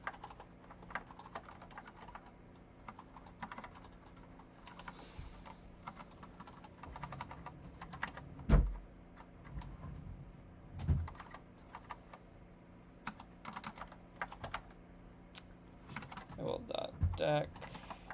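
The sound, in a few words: typing on a computer keyboard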